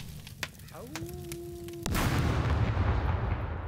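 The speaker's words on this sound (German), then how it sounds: "dann muss ich hier in die Ecke sprengen" A blasting charge goes off in SCUM: a short rising tone and faint clicks precede a sudden loud explosion, followed by a sustained, rumbling roar that slowly fades.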